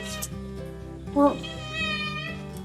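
Several drawn-out cat meows, one sharper and louder in the middle, with a faint voice briefly in the background.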